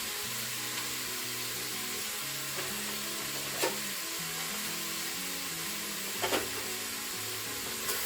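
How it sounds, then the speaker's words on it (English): Beef and vegetables for bourguignon fry with a steady close sizzle in a Crockpot Express pressure cooker. A few sharp scrapes and clicks from stirring break through the hiss, with no voices. "We now want to give that a good stir. And allow a few minutes to fry."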